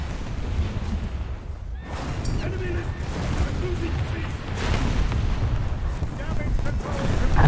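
Naval guns fire repeatedly from a warship at the cruiser Helena in a naval combat video game, heavy booms rolling over a dense, continuous battle din with some speech.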